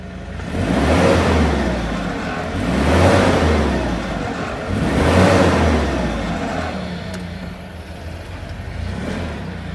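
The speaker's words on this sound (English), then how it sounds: "Yes, we're using a forklift to lift the car." A forklift lifts a Ford Escape for a rear brake pad and rotor job in a garage, its mid-pitched engine swelling and easing in three slow, loud revving surges that fill the clip before settling to a steady idle.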